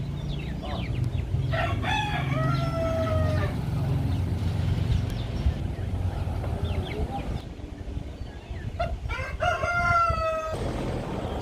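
A rooster crows repeatedly on a farm, mixed with hen clucking and steady background noise from the flock; the loud crows come in bursts near the start and again toward the end.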